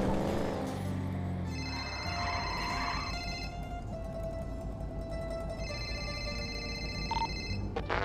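A phone rings in repeated electronic bursts, two long trilling rings separated by a gap, sounding over steady background noise and engine-like hum.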